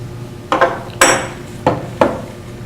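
Chainsaw side plate coming off after loosening with a crescent wrench: a few sharp metallic clanks and knocks, close and fairly loud, spaced irregularly with short pauses between.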